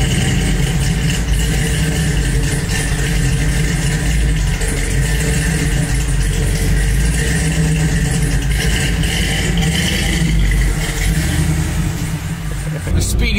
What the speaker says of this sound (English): now I need to go listen to the Speedy's mufflers that made it all the more badass